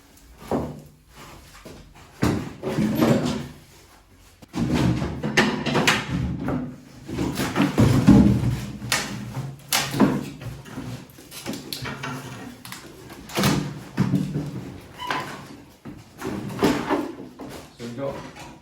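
Doors break off and fall during the demolition of an old mouldy wall, several loud knocks and clattering impacts scattered through the stretch, with people talking between them.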